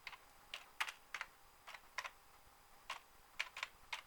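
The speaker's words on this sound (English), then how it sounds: "One finger typing" A computer keyboard is typed on one finger at a time, with about a dozen sparse, uneven, faint keystrokes clicking close by and no voice.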